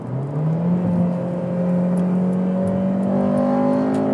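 A 2007 Honda Civic Si engine revs steadily up toward its 8,300 RPM redline, the tone climbing and hardening into a loud, continuous howl as VTEC engages, with no talk over it.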